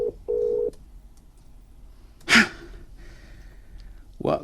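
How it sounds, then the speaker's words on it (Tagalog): A cellphone rings during a Cebuano-language drama episode as two short electronic tone bursts, followed by quiet and then breathy, gasp-like vocal sounds. "Salamat kay nibangting na ang cellphone ni Aida"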